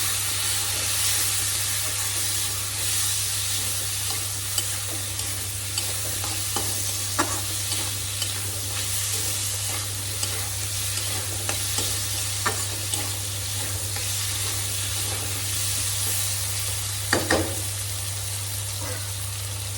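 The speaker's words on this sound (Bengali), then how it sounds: "তার মধ্যে কেটে রাখা আলুগুলো দিয়ে একটু ভেজে নেব" Cut potatoes fry with spices in a pan, giving a steady, loud sizzle with a constant hiss and occasional sharp pops and stirring scrapes, no talking over it.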